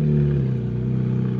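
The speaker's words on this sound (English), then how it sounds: "That Ferrari sounds awesome." Ferrari 458 with a naturally aspirated engine and aftermarket exhaust at a cars and coffee meet, giving a steady, loud, close engine drone with strong low harmonics, no voices over it.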